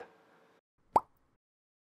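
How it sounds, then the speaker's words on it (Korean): A champagne cork eased slowly out of the bottle by hand, giving one soft, short pop after a moment of faint rustling, then silence. "코르크를 꽉 잡아주시고요. 끝까지 왔으면은 마찬가지로 살살살살 이렇게 뽑아주시면 됩니다. 그래서 너무 뽕 소리가 나지 않게"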